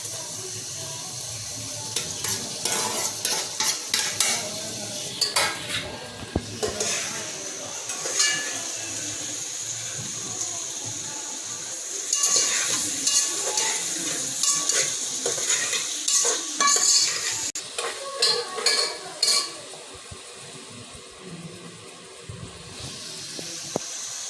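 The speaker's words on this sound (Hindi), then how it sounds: "हाँ, प्याज भून रही है।" Onions fry in a pan for a home Ramadan iftar meal, with quiet steady sizzling under repeated scraping and stirring clatter, close and moderately faint.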